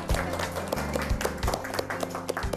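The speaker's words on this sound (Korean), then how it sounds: "선생님 환영의 박수 한번 쳐드릴까요?" An audience claps in welcome for an art critic at a bookshop book talk in Jeju, a short burst of dense applause with sharp individual claps standing out.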